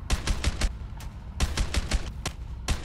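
Gunfire in the co-op action game A Way Out: clusters of sharp shots in quick groups of three or four, separated by brief pauses, moderately loud against a low background.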